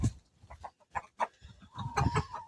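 Backyard hens cluck inside a coop in several short, close bursts, with brief gaps and a longer, louder run of clucking near the end.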